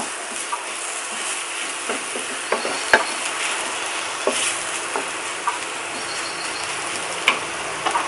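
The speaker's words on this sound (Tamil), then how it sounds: "இந்த மாதிரி கிளறி விட்டிங்கன்னா தனித்தனியாக வரும் ஒன்றா ஒட்டாமல்" Vegetables and egg sizzle and fry steadily in a pan, with scattered scraping taps from a spatula stirring them throughout; no talking.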